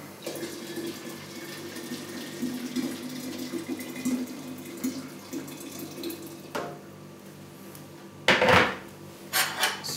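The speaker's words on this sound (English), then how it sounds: "So I put some more water." Water runs steadily from a tap into a pot for a copper distiller, a continuous splashing rush close by, followed by a few clanks and knocks near the end.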